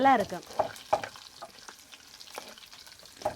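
Curry leaves, garlic, cinnamon, chilli and mustard seeds frying in coconut oil, a crackling sizzle with loud pops at the start that settles into quieter spattering, while a voice talks softly nearby.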